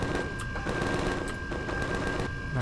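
Automatic turret gunfire in the space survival game Empyrion Galactic Survival, a sustained rapid burst of synthetic shots with a constant electronic tone underneath, loud and continuous, without speech.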